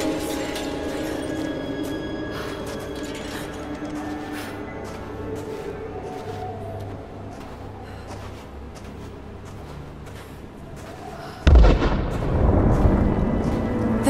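Deep rumbling blasts and booms from Rise of the Tomb Raider build under a low drone, then a sudden loud explosion hits near the end and leaves a heavy roaring tail.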